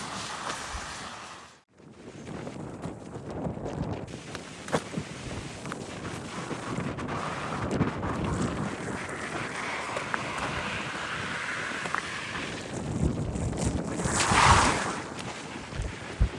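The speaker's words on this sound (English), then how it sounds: "Difficult wind, this one." A strong headwind roars into the microphone on a coastal walk in the far north of Scotland, a continuous rough rumble that swells and drops in gusts, with no voices.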